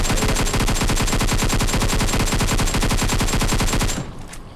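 Rapid automatic gunfire in the mobile battle game Free Fire, a loud, dense, evenly spaced burst of shots running continuously for about four seconds before cutting off abruptly.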